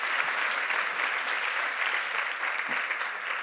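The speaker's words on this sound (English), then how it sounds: "will you give the MAISA team a huge round of applause for all the work that they put into this?" Audience applause for the MAISA team at a literacy coaching presentation, a steady, even wash of many hands clapping together throughout, with no voices over it.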